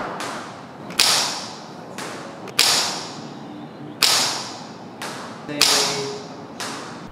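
An ICS Tomahawk airsoft sniper rifle fires BBs four times at even intervals, each shot a sharp crack with a fading tail, heard outdoors and close.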